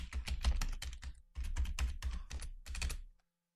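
A password is typed on a computer keyboard in a quiet room. The keystrokes come in a quick, close clatter of two short runs separated by a brief pause, then stop.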